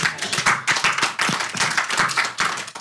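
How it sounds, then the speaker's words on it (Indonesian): A studio audience on a dangdut music talk show gives brisk, close clapping in uneven bursts, sharp hand slaps standing out without any talk over them. "tepuk tangan"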